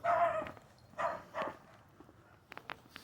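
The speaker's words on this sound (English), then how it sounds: "Satan dog is angry." An angry dog barks outdoors at night, three fairly distant, rough barks spaced about half a second apart, followed by a few faint scuffs and taps in otherwise quiet surroundings.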